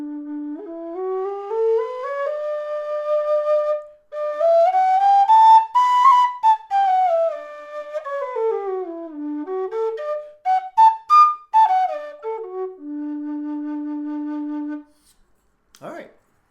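A Kerry Tenor D low whistle with an aluminum body and molded head plays a clear, breathy melody of rising and falling notes, ending on a long held low tone, up close and alone.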